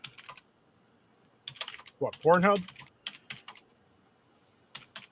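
Short bursts of computer keyboard typing for a web search, in scattered clusters of quick clicks, close and moderately loud, with a man's brief spoken question in the middle.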